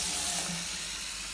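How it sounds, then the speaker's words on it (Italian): A glass of water is poured into batter for pasta fritters in a home kitchen, a brief steady rushing splash, close and fairly quiet, with no talk. "Adesso prendiamo un bicchiere d'acqua."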